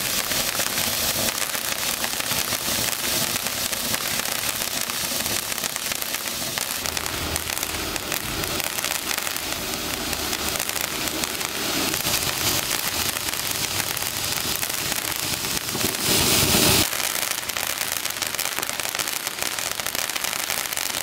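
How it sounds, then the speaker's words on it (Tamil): A crackling fountain firework of the Sri brand from Sivakasi burns for about twenty seconds, giving a dense, steady crackle and hiss with a sharp burst of extra popping near the end. No one speaks. "பாலாஜி பிராண்ட்ல இருந்து ஸ்ரீ கிராக்லிங் ஃபவுண்டைன் பார்க்க போறோம்."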